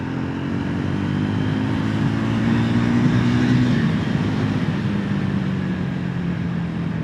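A Triumph motorcycle engine revs continuously up close, a loud steady drone that rises in pitch and then eases back down, with no voices.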